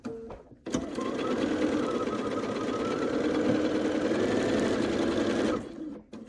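Quilt pieces are joined on a sewing machine in one steady, close run of rapid stitching lasting several seconds, with brief handling noises before and after.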